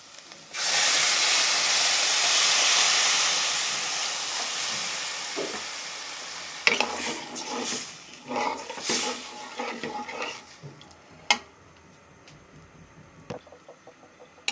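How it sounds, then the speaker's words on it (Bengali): Water poured into a pan of cooking masoor dal with egg, a loud steady rushing hiss for about five seconds that fades, followed by scattered clinks and bubbling of the pot nearby. "এখন আমরা জল দিয়ে দেব পরিমাণ মতো"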